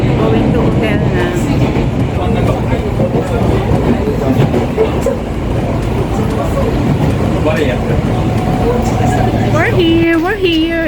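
A fast limited-stop train in Japan rumbles steadily with continuous broadband rail noise, loud and close as if heard from on board, with people talking over it throughout.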